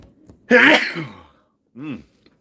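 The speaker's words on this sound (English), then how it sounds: "Sorry, I got another sneeze coming." A single loud, sharp sneeze up close, followed by a brief voiced exhale after a short pause.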